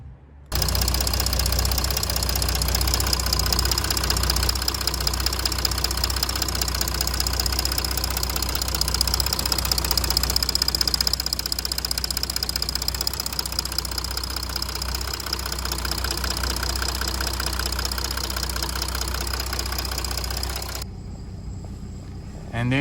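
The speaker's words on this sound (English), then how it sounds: "And the engine's running." A Jeep Grand Cherokee WK engine idling after a fuel pressure control valve replacement, a steady close mechanical hum with a faint ticking knock, running evenly for about twenty seconds before cutting out.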